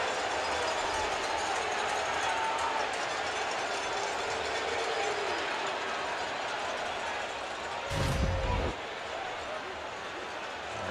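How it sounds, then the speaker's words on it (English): A stadium crowd at a 2021 Alabama versus Mississippi State college football game boos a late hit: a steady, distant, unbroken roar, with a brief louder thump near the end. "You hear the crowd not happy with it."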